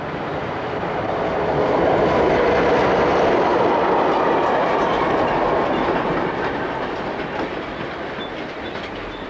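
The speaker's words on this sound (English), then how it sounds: "One 11667 heads down the grade with a short engineer's train" A Swiss Re 6/6 electric locomotive, class 620, rolls downgrade on the Gotthard mainline with a short engineer's train, a broad steady rumble with faint wheel clatter, swelling slightly then easing as it passes.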